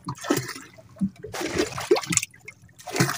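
Water is bailed out of a small fishing boat in scooped splashes, with three or four uneven pours and dribbles close by, each dumping liquid with a brief gush and trickle.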